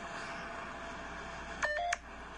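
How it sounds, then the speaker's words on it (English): A phone gives a short electronic notification tone when a strong magnet comes near it. Two quick close beeps sound clearly over a quiet room background. "it kind of gives you a notification when like a strong magnetic force is close to your phone"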